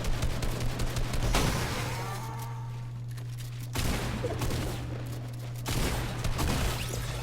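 Fortnite solo cash cup match with sniper fire, several sharp gunshot cracks in separated bursts over a steady low hum, moderately loud with no talking.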